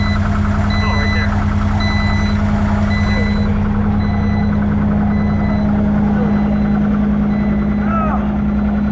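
Truck reversing beeps ring out through a loading job at night, a steady loud engine drone and low hum underneath, with tones repeating at a regular interval and a voice speaking briefly.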